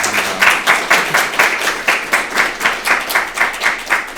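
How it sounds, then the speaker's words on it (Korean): A lecture audience at a university mathematics colloquium applauds to welcome a speaker, a dense, steady wash of clapping from many hands that holds throughout. "그래서 먼저 연사분을 큰 박수로 환영합니다"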